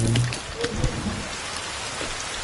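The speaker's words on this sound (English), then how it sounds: "At least this rain will wash all this fucking blood off me." Rain falls steadily in the survival video game The Forest, a soft continuous patter with a brief low rumble at the start, fairly quiet and with no talk over it.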